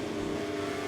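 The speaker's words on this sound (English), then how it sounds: "we rev the engine up and the Thailand Grand Prix is underway" A motorcycle engine revs in steady, droning tone during the Thailand Grand Prix race in MotoGP 24, a brief close burst with no talking.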